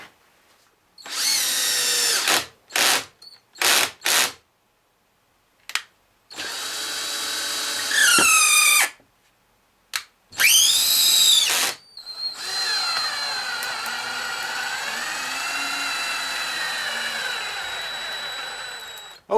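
A power drill bores a pilot hole through a wooden tree limb in several short bursts, its whine rising and falling, then running in a long steady stretch near and loud.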